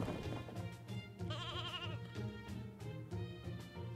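A cartoon sheep bleats in an anime Christmas scene, several wavering, nasal cries in quick succession, close and clear, with a longer quavering bleat in the middle.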